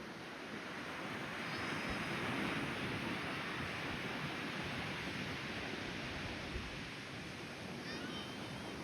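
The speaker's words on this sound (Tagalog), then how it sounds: "Lumalakas na yung alon." Steady, broadband wash of surf rolling in continuously, with a gusty wind rumble over it, fairly loud and unbroken throughout.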